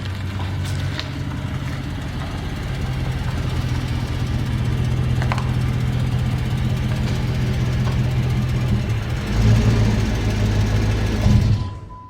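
A car engine idles steadily, a low continuous rumble close by for about twelve seconds, growing slightly louder near the end as the car is pulled in for headlight restoration work.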